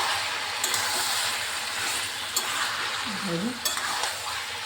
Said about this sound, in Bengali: এবার ভালোভাবে এটা মিশিয়ে নিচ্ছি